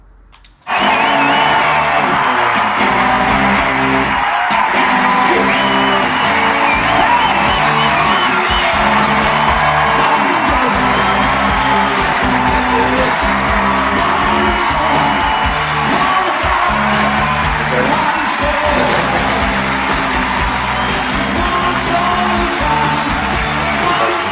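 A live Ricky Gervais stand-up comedy audience cheers, yells and whoops in a sustained, loud roar of crowd noise that carries on steadily with no break.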